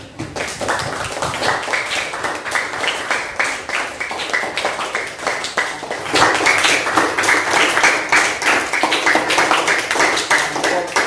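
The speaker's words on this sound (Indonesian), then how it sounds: "Ya, tepuk tangan." Classroom audience clapping during a school lesson, a steady dense patter that swells louder midway and continues throughout without talk.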